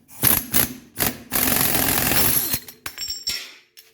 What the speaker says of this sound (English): I like to use this ball joint separator.